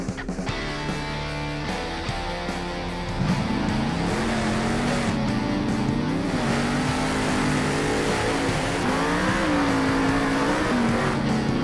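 Grave Digger monster truck engine at a Monster Jam stadium show in San Diego, idling then roaring louder with rising and falling revs that hold loud and continuous through the rest.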